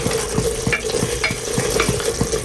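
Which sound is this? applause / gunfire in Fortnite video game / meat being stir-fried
meat being stir-fried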